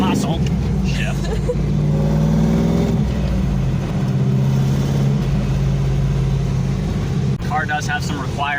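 A 1999 Trans Am engine revs hard and pulls through a gear shift, a loud, steady mid-low drone running across the whole stretch with a brief dip near the end as the shift comes in.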